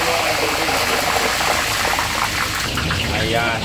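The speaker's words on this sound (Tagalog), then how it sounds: "patutuluan ng tubig" Water poured or splashing onto cooked eggplant in a home kitchen, a steady close rushing wash of liquid that fills the whole stretch without pause.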